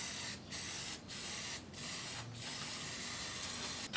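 Fast tack upholstery adhesive sprays onto wood and foam in close, hissing bursts, four or five quick blasts separated by brief pauses.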